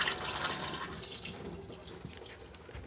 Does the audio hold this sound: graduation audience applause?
no